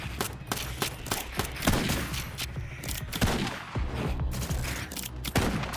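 Gunfire in the video game Life After, with repeated sharp gunshots and bursts scattered over a dense battle din, some louder and closer than others, and no speech.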